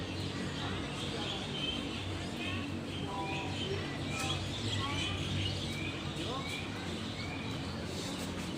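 Birds chirp and pigeons or doves coo, with many short, overlapping calls over a constant background hum, and a voice faintly underneath.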